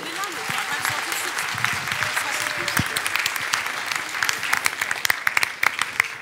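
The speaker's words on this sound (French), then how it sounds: "J'aimerais qu'on applaudisse bien fort toutes celles et ceux qui font la richesse de cette soirée." A ceremony audience honouring local citizens applauds in a sustained wash of clapping, with a few sharper individual claps standing out near the end and faint voices mixed underneath.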